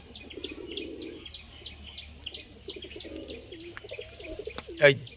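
Pigeons kept for flying and sale coo in low, soft, rolling bursts, with chirps and a brief flutter nearby, set against light outdoor background noise.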